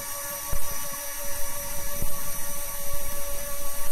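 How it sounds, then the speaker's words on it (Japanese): An electric reel motor on a deep-sea bottom-fishing boat winds line under load at about 335 m depth, giving a steady, close whirring drone with a faint high whine that holds for the whole stretch. "電動リールの トルクがかかっとるわ。"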